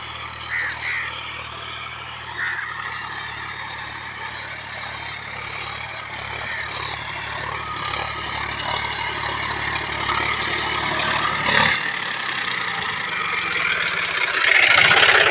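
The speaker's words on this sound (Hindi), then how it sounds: "ट्रैक्टर कैसा चल रहा है कल्टीवेटर पे," A John Deere 5105 tractor pulling a cultivator through a field, its diesel engine droning steadily and close with a low constant rumble that swells louder toward the end.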